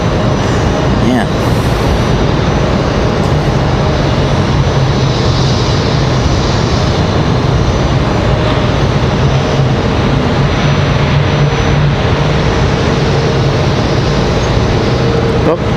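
A Southwest airliner, flight 1764, arrives at Raleigh-Durham International Airport with a loud, steady engine roar that holds throughout, close and constant with no break.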